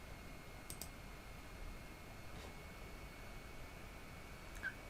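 A computer mouse gives a few faint, sparse clicks against a quiet room hiss, with single sharp taps spaced seconds apart.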